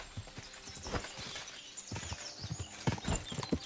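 Horse hooves clop in uneven beats in a medieval video game, with a faint whinny and scattered thuds, fairly quiet and close.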